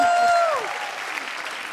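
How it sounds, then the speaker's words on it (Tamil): Dense clapping from a TV singing-contest audience continues steadily, while a sustained sung or played tone fades out at the start. "மீண்டும் ஒருமுறை ஜோரான கைத்தட்டல்"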